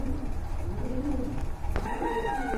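Quality pigeons at a breeder's loft give off steady, close cooing over a dense bed of low flock murmuring, with no talk.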